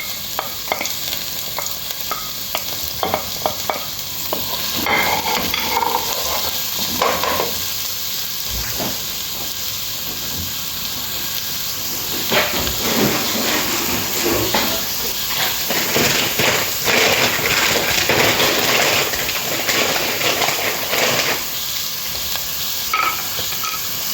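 A large batch of onions sautés in a pan while a spoon stirs them. A loud, steady sizzle and hiss run throughout, with repeated scraping strokes, and no one speaks.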